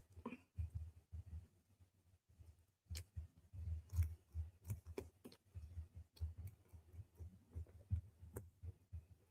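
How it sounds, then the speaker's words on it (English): Scissors snipping through plastic packaging while unboxing a Hot Toys Batman Returns figure, a quiet run of short, repeated cuts and crinkly handling sounds close by, with no talking. "Your girl's just going to cut it with some scissors."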